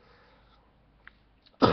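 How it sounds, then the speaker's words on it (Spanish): One short, sharp cough bursts out at the end after near silence and a couple of faint clicks. "Mi tos va a ser el sonido de fondo"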